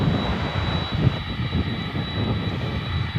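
Jet airliner engines warming up on the ground at DFW Airport, a freighter bound for Louisville, making a steady, loud rumbling roar with a constant high whine running through it, unbroken for the whole stretch.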